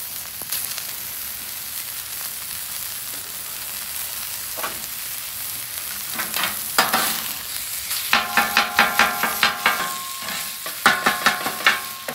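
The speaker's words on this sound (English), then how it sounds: "Today we're gonna be chop, chop, chop, chopping it up." Chorizo sizzles on a griddle while a spatula or knife chops through it, producing a run of rhythmic, evenly spaced scraping taps over a constant frying hiss, close and clear. No talking is heard.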